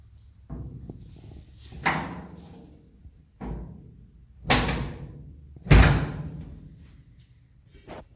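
The steel door of a restored 1936 Chevy truck is opened and closed several times, giving four solid, close thunks spaced a second or two apart, each with a short ringing decay.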